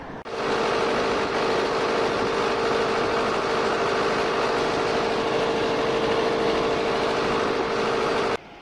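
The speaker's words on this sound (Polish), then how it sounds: "będziemy takim konwojem jechali na 3 traktory" Vintage tractor engines idling and running together in a convoy heading to a harvest festival, a steady loud droning hum with a constant tone throughout, close by and with no voices.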